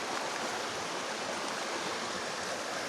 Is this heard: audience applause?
no